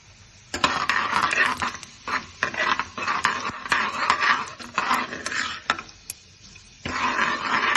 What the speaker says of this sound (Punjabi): ਤੇਲ ਸਰੋਂ ਦਾ ਲਿਆ ਧੂਆਂ ਛੱਡਣ ਲੱਗ ਗਿਆ ਤੇ ਇਹਦੇ ਵਿੱਚ ਜੀਰਾ ਪਾਤਾ